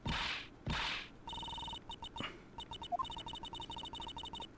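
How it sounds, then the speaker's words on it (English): A telephone rings in repeated bursts of bright electronic trilling, clear at first and then choppier with gaps, fairly quiet overall. "Phone's ringing, that's annoying."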